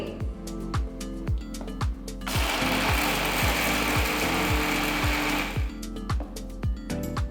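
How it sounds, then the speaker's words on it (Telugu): A mixer grinder with a small jar grinds rock salt and turmeric, giving a loud whirring, gritty roar for about three seconds, bracketed by rhythmic mechanical clicking before and after. "ఇప్పుడు నేను చిన్న జార్లోనే ఇది రుబ్బుతున్నాను"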